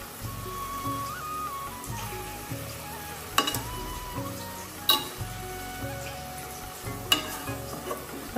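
Vegetable stalks cook with hilsa fish in a pan, a steady low sizzle under occasional sharp clinks and scrapes of a utensil against the pan, close and moderately quiet without talking.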